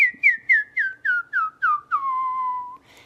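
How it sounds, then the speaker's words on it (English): Close, clear human whistling: about eight short, evenly spaced notes stepping gradually downward, ending in a longer sustained note that fades out, with no talk over it. "if you want to practice whistling, just try making little tiny sounds."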